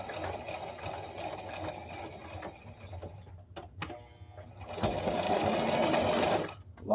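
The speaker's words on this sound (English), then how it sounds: "Pull the pin out and sew to the end of the sleeve." A sewing machine stitches along a coverall sleeve in several runs of rapid mechanical whirring, broken by short pauses and clicks. A louder, steady burst comes near the end, close and clear, with no talk.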